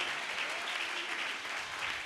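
A church congregation at a Sunday service claps hands together in steady, dense applause, a soft even wash of many hands at a moderate distance, with no talking over it.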